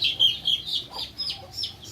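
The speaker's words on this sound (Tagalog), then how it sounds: "mga manok-manok dyan. Sa aming maliit na bakuran." Chickens kept in a small backyard cluck and chirp in short, repeated calls, moderately near, with no one talking.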